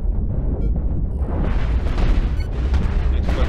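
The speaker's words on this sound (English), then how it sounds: "Oh, it's got cannon." Ship cannons fire in the space combat game Cosmoteer, a loud rumbling barrage of booms and bursts with sharp impacts scattered through it and no gaps.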